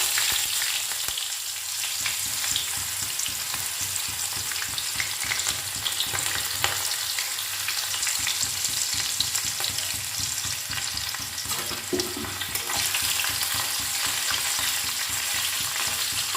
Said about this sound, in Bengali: পেঁয়াজটা একটু ভাজা ভাজা হয়ে এলে